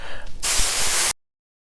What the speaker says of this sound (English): We're just going to spray it down.